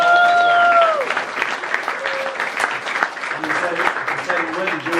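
A crowd at a common reading event applauds the poster maker, several seconds of steady clapping with a voice speaking over the start and a few voices calling out through it.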